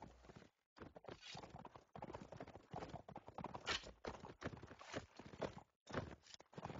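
Horses' hooves clop in a busy medieval-style video game battle, a dense run of galloping hoofbeats with occasional clatter, fairly close and continuous apart from a few short breaks.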